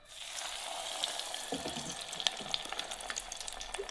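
Frozen onion rings fry in a fryer with a steady, moderately loud bubbling sizzle and scattered crackling pops throughout.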